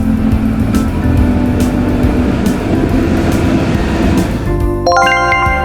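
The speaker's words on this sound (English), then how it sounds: "Fly the cable car." A cable car runs with a constant low mechanical drone, and near the end a bright chime rings out over it. No voices are present.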